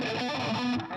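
Heavily distorted electric guitar plays a brief run of palm-muted notes, tight and percussive, lasting about a second at moderate volume.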